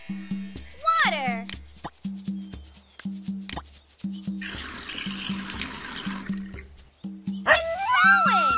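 Water pours over plants in a Dora video game, a soft steady splashing lasting about two seconds mid-clip, set between bouncy game music, chimes and cartoon sound effects.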